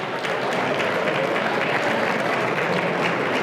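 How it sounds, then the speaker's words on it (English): Sustained audience applause at a political speaking event fills the room evenly, a dense steady wash of clapping from a sizeable crowd that holds at full strength throughout. "We can give that a round of applause as well."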